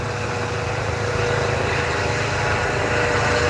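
Steady, droning medical helicopter rotor and engine noise holds at a constant level throughout, a broad rumbling wash with no voices.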